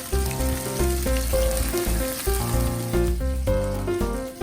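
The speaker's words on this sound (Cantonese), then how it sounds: "煎多2分鐘啦，直至到雞翼中間嗰啲骨呢冇血水滲出嚟呢" Medium-sized chicken wings pan-frying in fish sauce, a steady close sizzle throughout, with tonal background music audible underneath.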